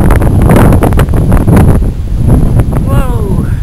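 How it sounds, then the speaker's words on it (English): Strong wind roars across the microphone on a seaside railway trip to Sheringham, buffeting loudly and continuously, with people talking underneath and a brief tonal whine near the end. "Whoa! A bit windy, isn't it?"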